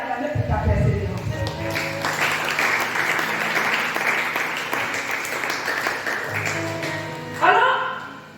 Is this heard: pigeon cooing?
no